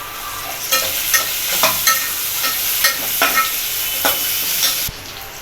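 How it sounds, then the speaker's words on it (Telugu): Onions sizzle in hot oil while cumin, three cardamom pods and mint are stirred in, with a steady frying hiss broken by several distinct spoon scrapes and clinks against the pan, close and fairly loud, no voices. "ఆనియన్స్ ఈ విధంగా ఫ్రై అయిన తర్వాత కొద్దిగా జీలకర్ర, ఒక 3 ఇలాచీలు వేస్తున్నాను."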